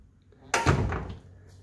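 A single solid door of a 1966 Pontiac Star Chief Executive shuts with a heavy thunk, close by, followed by a short fading resonance and quiet background.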